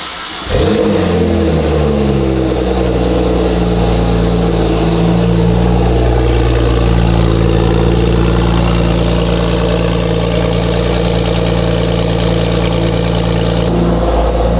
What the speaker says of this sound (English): it's gonna be my first time hearing a GT2 with any exhaust